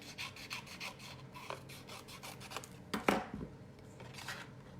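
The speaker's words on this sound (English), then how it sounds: "this needs to be trimmed off just a little bit" Cardstock for an anniversary card is trimmed on a paper trimmer, giving a series of quick, rhythmic rasping strokes followed by a louder single slicing swipe and lighter rubbing, close and fairly quiet with no talk.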